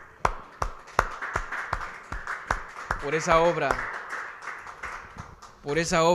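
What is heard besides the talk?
clapping applause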